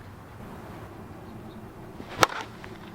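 One sharp crack as a Miken KP23 one-piece USSSA slowpitch bat strikes a ball, coming near the end of a quiet stretch. Close and brief, with faint background noise and no talking.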